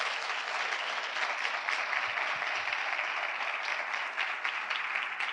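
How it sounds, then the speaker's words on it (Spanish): An audience at a university conference on journalism and gender violence applauds steadily, a dense, continuous wash of clapping that stays loud and even throughout, with no voices breaking through. "les voy a pedir el mayor de los aplausos"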